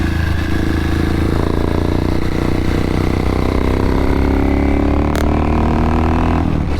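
A KTM motorcycle rides along with a loud, close, continuous engine drone, its pitch sliding as it downshifts, with no one speaking.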